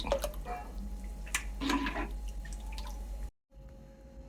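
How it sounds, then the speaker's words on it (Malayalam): Buttermilk is poured into a pulissery curry, trickling and splashing steadily at close range. The stream breaks off briefly near the end, then a faint wet tail follows. "ഇതിന് മോരൊഴിച്ചു കൊടുക്കാം നമുക്ക്"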